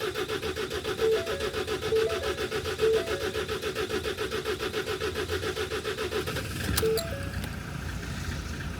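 A Ford Transit EcoBlue diesel engine cranks with a steady rhythmic churning from the starter motor, long and unbroken, with a few faint electronic beeps and a brief clatter near the end.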